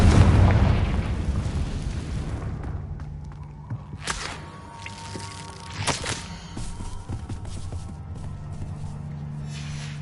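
Confringo fire spell blast in Hogwarts Legacy: a loud, deep explosion opening the moment, then rolling rumble with a few sharper bursts and thuds, settling into low cave ambience.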